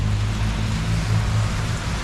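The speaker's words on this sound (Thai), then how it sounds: "ฝนตก ฝนตกเฉยฝนตกเฉย" Rain falls steadily outdoors as a dense, even hiss, loud and continuous, with a low rumbling drone underneath.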